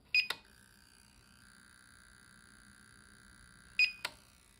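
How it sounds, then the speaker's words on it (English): A Holy Stone HS100R drone's remote controller gives two short electronic beeps a few seconds apart, fairly faint, with a thin steady tone lingering between them. "you'll hear a slight beep or vibration noise"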